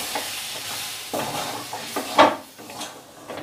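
Crushed biscuit stirred into a spice masala in a hot pan, with soft sizzling under intermittent scraping and clinking of a spoon against the metal, close and with no voices.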